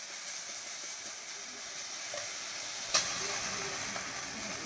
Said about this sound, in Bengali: এবারে ওই তেলের মধ্যেই পেঁয়াজ বাটাটা দিয়ে দেওয়া হলো।